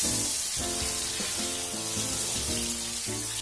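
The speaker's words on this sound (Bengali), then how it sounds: "এবারে আলুগুলো এর মধ্যে লাল লাল করে ভেজে নিচ্ছি।" Potatoes frying in hot mustard oil in a kadai, a steady close sizzle that continues throughout beneath background music.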